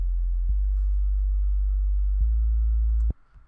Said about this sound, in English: So we have the bass, the sub bass that we have.